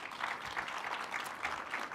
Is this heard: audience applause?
yes